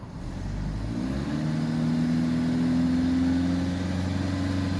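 A diesel car engine with a soot-clogged particulate filter is revved from idle, rising over about a second into a sustained, steady higher-rpm hum, moderately loud with no talking.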